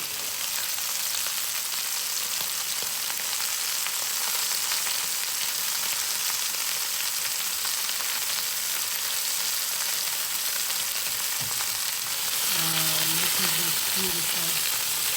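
Air-fried lamb chops sear in a big hot pan with a loud, continuous, even sizzle throughout. Brief soft voices come in near the end.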